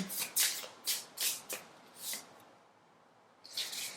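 Tarot cards shuffled and drawn by hand, heard as several quick, crisp riffling bursts close by, separated by short pauses, with a final flurry after a brief quiet gap.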